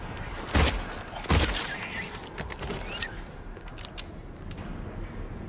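Gunfire in the Silent Hill 2 Remake, two loud sharp shots close together near the start, followed by quieter clicks and mechanical clatter in a subdued room.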